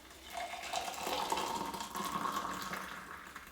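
Water running from a tap into a small saucepan, a soft steady pour that rises and holds for a few seconds, fairly quiet and alone.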